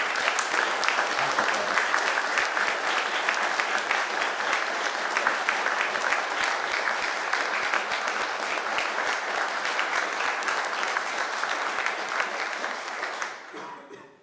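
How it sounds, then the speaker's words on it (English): Sustained, dense applause from the crowd at a Kentucky news conference on postsecondary education, holding steady for over ten seconds before fading out quickly at the end. "I'd like for us to give him a round of applause for his vision"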